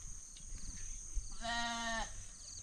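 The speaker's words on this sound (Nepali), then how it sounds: "बाख्रा भेडाहरू" Goats and sheep at a goat and sheep farm in Chitlang, Nepal, with one clear harmonic bleat of about half a second standing out near the middle over faint outdoor background and a few softer distant calls.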